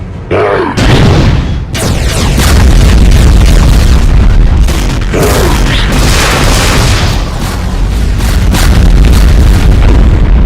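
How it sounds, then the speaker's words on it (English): Spreads of double spherical BFG 10k shots from a Doom mod detonate in dense, booming explosions, loud and continuous with overlapping blasts and bursts over about ten seconds. "Spreads of double spherical BFG 10k shots, aka the 11k shots."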